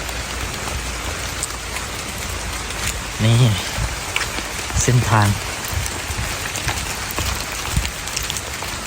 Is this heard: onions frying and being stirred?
no